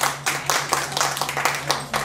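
Clapping from a small audience at a Qinqiang opera apprenticeship ceremony, loud rhythmic claps in an even beat that fill the room, close by and with little talk beneath.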